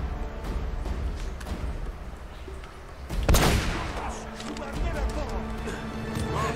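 Gunfire crackles during a firefight in the video game Uncharted: Drake's Fortune, with a loud burst of shots near the middle over a busy background of game sound and occasional talk.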